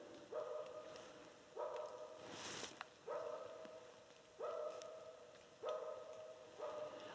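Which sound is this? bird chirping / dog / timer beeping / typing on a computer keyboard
dog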